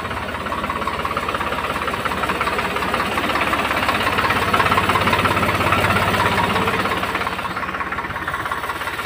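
A tractor engine runs on a farm, a steady, loud, continuous rumble with a faint rhythmic knock and no break, and no speech over it.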